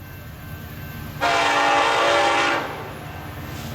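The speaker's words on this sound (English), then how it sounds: "Eastbound mixed freight, Woodbine, Iowa." An eastbound Union Pacific mixed freight train at Woodbine, Iowa sounds a loud, steady horn blast that holds for over a second near the tracks, under a constant rumble of the passing train.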